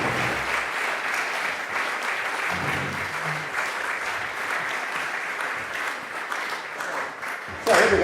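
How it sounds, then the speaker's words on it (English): An audience claps and cheers continuously at a blues piano performance, a dense steady wash of applause throughout, with a brief louder burst near the end. "give him a round of applause, folks"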